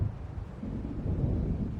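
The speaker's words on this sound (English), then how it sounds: "It seems there's a storm coming." A low, steady rumble of approaching storm thunder in the video game Alan Wake Remastered. It rolls on continuously for the whole stretch at fairly even loudness, with no talk over it.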